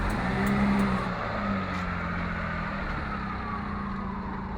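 A Daihatsu Midget drives along a road, its small engine giving a steady, moderately loud drone with a slight rise and fall in pitch; no one speaks.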